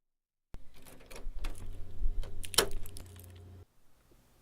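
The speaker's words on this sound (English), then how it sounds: "And here's the new Foley." Close, clean Foley rustles and metallic jingling like keys, with a brief sharp knock near the end, then near silence.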